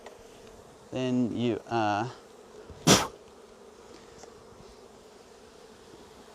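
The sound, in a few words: bees buzzing in a hive being smoked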